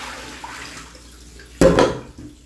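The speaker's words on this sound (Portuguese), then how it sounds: "Vou tacar aqui debaixo da torneira pra ver se ele vai mais rápido" Frozen food pushed under a running kitchen tap: a quiet room hum, then a sudden loud splash and gush of water that tapers off after about half a second.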